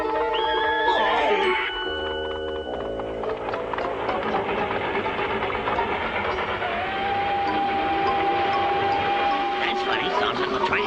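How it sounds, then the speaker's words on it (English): A cartoon train approaches with a steady, loud rumble and a whistle-like tone, continuous and busy with layered mechanical clatter throughout. "That's funny. Sounds like a train."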